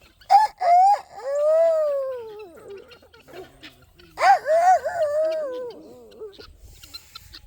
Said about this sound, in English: Show him how to crow.